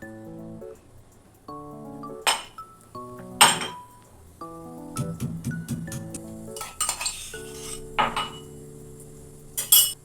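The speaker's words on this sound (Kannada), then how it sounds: "ಈ ಬೆಳ್ಳುಳ್ಳಿನ ಸ್ವಲ್ಪ ಸಣ್ಣಗೆ ಕುಟ್ಕೋತೇನೆ ರೀ" Garlic pounded finely for a home lunch, a series of ringing metallic knocks in uneven bursts with short pauses between, close and without talk.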